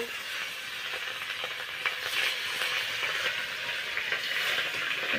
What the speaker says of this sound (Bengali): এখন মা হচ্ছে মাছগুলো ভেজে নিচ্ছে